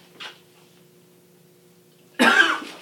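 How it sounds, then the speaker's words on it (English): A brief faint sound near the start, then after a quiet pause one loud, harsh cough close to the microphone. "I was coughing."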